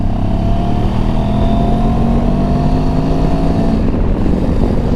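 A Benelli TRK 702X motorcycle under way climbs up through its gears, the steady engine drone rising in pitch between shifts, loud and close with heavy wind rush over the microphone.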